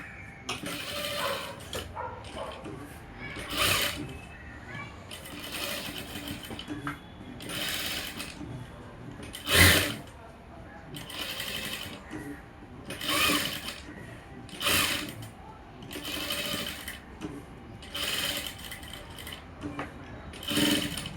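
A sewing machine stitches a blouse seam, running in repeated short bursts with pauses between them, close and fairly loud, with some faint background voice.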